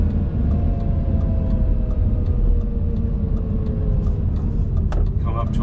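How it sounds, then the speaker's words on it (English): Lamborghini Gallardo V10 engine droning steadily and loud from inside the moving car, with a slowly falling tone and some rattling near the end. "the RPM of the engine, the roar, is just incredible"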